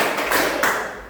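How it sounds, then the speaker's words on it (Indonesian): Two or three brisk group hand claps in a classroom, close and crisp, one after another with a little room echo trailing off. "Tepuk 1, tepuk 2,"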